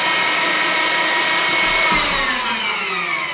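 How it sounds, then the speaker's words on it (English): A kitchen blender whirs steadily, emulsifying braised vegetables for a sauce to go with black bear shanks, a loud continuous motor roar that stays close and even throughout with no talking. "we're going to put them in a blender and emulsify them"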